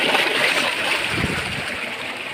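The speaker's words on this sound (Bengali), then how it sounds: "তো দেখতে পাচ্ছেন এখানে পানির কি গতি" Water gushes from the 3-inch delivery pipe of a 2 horsepower solar irrigation pump run by eight 330-watt panels, a steady broadband rushing and splashing held close and loud throughout.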